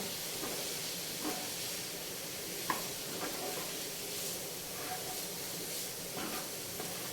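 Samosa filling fries in a pan while being stirred, giving a steady soft sizzling hiss with faint scraping touches and no talk.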